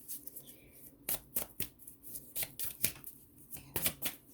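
Oracle cards being shuffled close up, a series of crisp riffling bursts and soft slaps in an irregular rhythm, quiet room, no talking.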